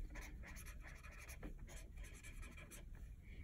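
Pen marking off an item on paper at a tarot reading table, a soft continuous scratching and rubbing stroke, close and quiet, with no one talking.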